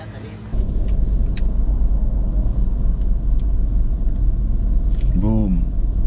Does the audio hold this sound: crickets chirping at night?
no